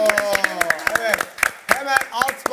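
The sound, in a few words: applause from studio audience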